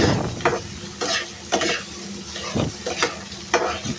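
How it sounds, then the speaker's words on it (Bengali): Masoor lentils stir-fried with spices in a pan, with a bitter gourd dish in progress: a steady close sizzle broken by regular scraping strokes of a spatula roughly every half second, with no voices. "তারপর আমি ডালগুলো দিয়ে দিলাম, ডাল দিয়ে ভালোভাবে একদম কষিয়ে নেব"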